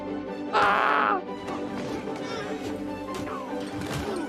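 A bird caws once, loud and harsh, for about half a second in a Ubisoft Forward game trailer, followed by a dense, busy trailer soundscape with scattered thuds and cries.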